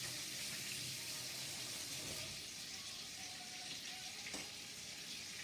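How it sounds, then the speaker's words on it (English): Lamb chops simmering in garlic and olive oil give off a steady, close sizzle and soft bubbling that holds evenly from start to end, with no talking over it. "You're going to let that simmer in there, in the garlic, the olive oil"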